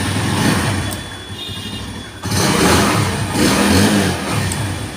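A used Royal Plus motorcycle engine runs close by and is revved, a loud steady mechanical drone that dips briefly and then surges back up, with no voices over it.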